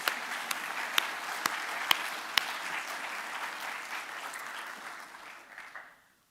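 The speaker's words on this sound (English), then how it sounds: "So let's give him a round of applause." Evening session audience at an academic gathering gives sustained applause, a soft wash of many hands with a few sharp nearby claps standing out early, fading out after about six seconds.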